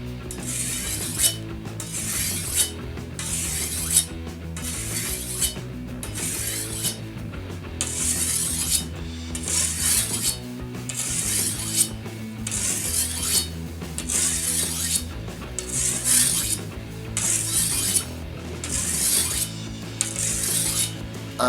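Machete blade being sharpened on the fine side of a lubricated sharpening stone: rhythmic, raspy strokes back and forth, roughly one every second, steady and close throughout, with no speech.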